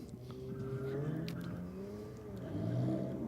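An Audi race car launches down a drag strip, its engine rising in a strong, steady roar that swells again near the end, heard from a moderate distance with no voices.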